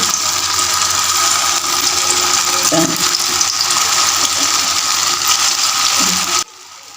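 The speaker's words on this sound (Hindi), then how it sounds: "ये देखिए ऑयल गर्म हो चुका है तो एक एक करके इसको हम डालते जाएंगे" Loud, continuous sizzling hiss of hot frying oil as potato and semolina balls are dropped in one by one, steady throughout before cutting off abruptly near the end.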